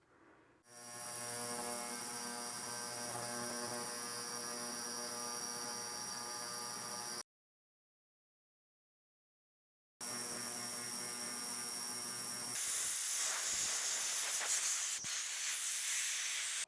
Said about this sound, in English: I think we'll put it in the ultrasonic cleaner with a really high heat setting